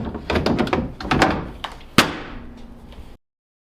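Waterproof lids on a Decked truck bed drawer system shut with a few close, solid plastic thunks, then one sharp louder thunk followed by a short fading rumble.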